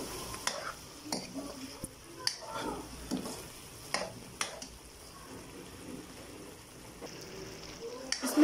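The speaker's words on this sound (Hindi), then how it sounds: "इस मसाले को हम तकरीबन 20 मिनट के लिए अच्छी तरह से भूनेंगे।" Biryani masala with salt, chilli, turmeric and yoghurt frying in a pan: a soft, steady sizzle with repeated scraping stirs and utensil clinks, while a voice talks over it.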